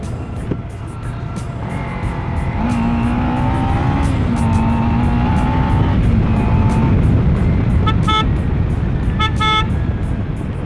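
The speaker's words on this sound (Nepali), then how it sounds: "बाइक त कुदाउनै रमाइलो के गाइस" A Kawasaki Ninja 300 fitted with a K&N air filter being ridden, its engine droning steadily with rising tones, then several sharp toots of a pressure horn near the end.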